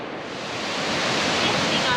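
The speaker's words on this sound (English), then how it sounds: "We're at St. Columbia Falls, and it's believed to be the highest waterfall in Tasmania" St. Columbia Falls, a tall rainforest waterfall in Tasmania, roaring as a dense, steady rush of falling water that swells slightly and fills the scene, close and loud, with no other sounds standing out.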